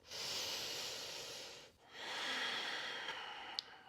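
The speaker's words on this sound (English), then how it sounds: "take a round of breath" Deep audible breathing during a slow strength-building yoga flow in high plank: a long, airy inhale-exhale, a brief pause, then another long breath, close and steady with no talking.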